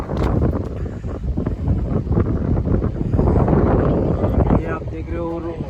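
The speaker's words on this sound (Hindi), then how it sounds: "फिर भी आप देख सकते हो बहुत ठंडी हवा चल रही है" Strong, cold wind blows beside the Ganges river at Rishikesh, buffeting the microphone in loud, gusty rumbles under nearby talking, easing slightly near the end.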